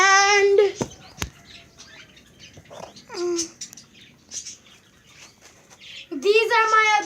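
Several pet birds give sharp, high repeated calls in short bursts at the start and end, close and loud, with someone talking between them.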